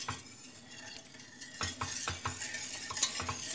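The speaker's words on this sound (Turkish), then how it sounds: "muhallebimiz pişene kadar sürekli çırpıyorum" A whisk beating milk pudding for a pumpkin dessert in a pot on the stove, faint at first, then a quick rhythmic series of metal taps and scrapes against the pot, no talk.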